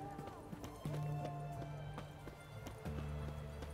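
Horse hooves clopping as it is ridden in the video game The Witcher 3, a quiet rapid rhythm mixed with game music and other effects.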